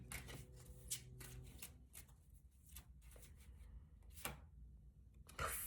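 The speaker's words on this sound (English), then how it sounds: "I literally saw this card when shuffling" A deck of tarot cards is shuffled in quiet, close bursts of crisp riffling and flicking, several quick rounds separated by short pauses.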